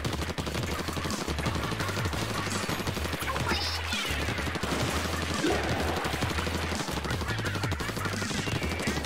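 Ink weapon in Splatoon 2 shooting nonstop during a Splatfest turf battle, a rapid, steady stream of loud, clattering shots running the whole way through with no pauses.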